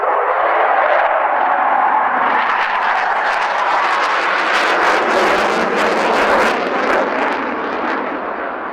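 Jet aircraft roaring through tight 9G and outside turns at the 2015 Cosford Air Show, a loud continuous broadband engine rush that swells and surges with crackling, no talk.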